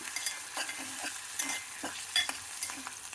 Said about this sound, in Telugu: ఇది ఉల్లిపాయలు వేగినాయి, టమాటాలు వేగుతున్నాయి, అల్లం వెల్లుల్లి పేస్ట్ ఉంది